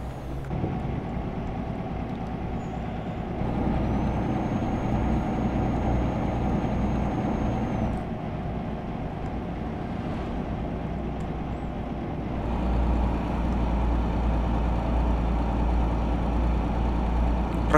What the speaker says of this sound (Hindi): ट्रक की आवाज़ सुनो यार, किस तरह ट्रक की आवाज़ आ रही थी बाहर का सुनो